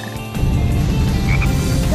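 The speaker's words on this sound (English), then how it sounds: "Detecting a frog in the vicinity." A frog croaks repeatedly in Sonic Heroes, with low rhythmic croaks in a steady run over constant game ambience and music.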